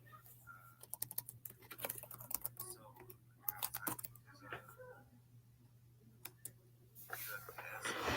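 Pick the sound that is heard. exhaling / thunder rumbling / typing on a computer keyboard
typing on a computer keyboard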